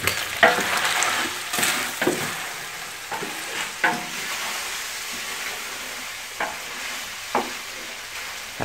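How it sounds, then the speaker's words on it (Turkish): Meat kavurma sizzles steadily as it fries over an open ground fire in a village, with sharp scraping stirs that come at irregular intervals, loud and close, and no one talking. "Cızırtısı sizlere kadar geliyordur eminim."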